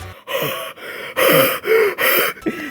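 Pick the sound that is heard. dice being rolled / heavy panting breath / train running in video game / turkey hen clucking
heavy panting breath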